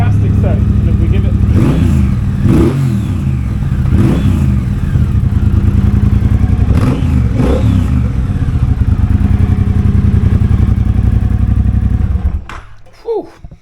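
Motorcycle fitted with a half Motone Shorty, half stock exhaust, heard close and loud: a deep, bassy idle broken by several sharp throttle blips that rise and fall, then cut off near the end, with someone speaking in between.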